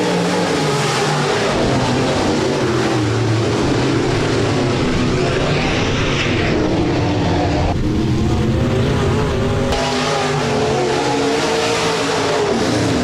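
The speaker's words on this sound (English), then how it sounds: "Heat race number 2 of 3 for the USRA B-Modifieds." USRA B-Modified dirt-track race cars at Rapid Speedway during a heat race: loud, continuous roaring engines from several cars, rising and falling as they pass and rev, with a steady dense crowd-of-engines drone throughout.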